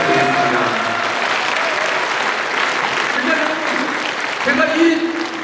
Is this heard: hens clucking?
no